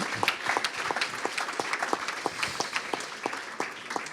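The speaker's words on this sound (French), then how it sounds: "peut-être qu'on peut l'applaudir pour toute cette production visuelle." Audience applause at a partners' day conference session, a moderate spread of many individual claps heard alone, steady for several seconds.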